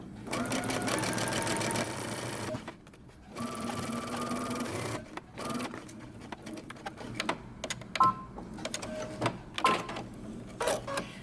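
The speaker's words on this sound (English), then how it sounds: "I'm going to be using a basting stitch, and I'm not going to back stitch." A sewing machine runs a long basting stitch along a 5/8-inch seam allowance on a romper or dress, whirring in steady bursts with brief pauses and a few clicks between runs.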